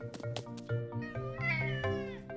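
A cartoon cat in a Latvian-dubbed children's animated show meows repeatedly in clear, close, drawn-out cries with a whiny caterwauling edge, heard alone without talk.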